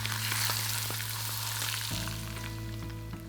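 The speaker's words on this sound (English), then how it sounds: "Then pour smoking hot oil over the dry seasoning." Smoking hot oil hits dry seasoning for noodles with a sharp burst of sizzling that hisses loudly, then settles into a softer, steady crackle, heard up close.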